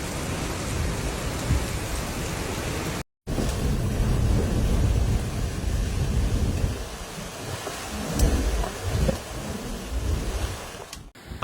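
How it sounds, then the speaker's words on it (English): Heavy typhoon rain from Typhoon Gaemi in Taiwan pours steadily and loudly in a dense wash with distant thunder rumbling beneath, broken once by a brief gap, with no voices. "Conditions in Taiwan have worsened as Typhoon Gaemi brought heavy rainfall"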